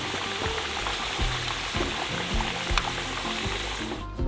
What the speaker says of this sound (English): So the reason why I fry the potato